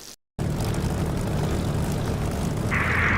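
An aircraft taking off in the DCS flight simulator game, heard as a steady, loud engine roar that begins abruptly after a brief silence and holds constant, with a higher whine layering in near the end.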